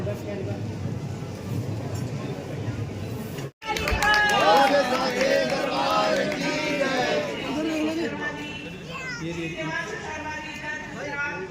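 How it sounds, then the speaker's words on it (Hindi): Large crowd chattering at a Haryana Chief Minister's event, a dense, steady babble of many voices close around, with individual voices rising above the hubbub throughout. "बड़ी भीड़ में"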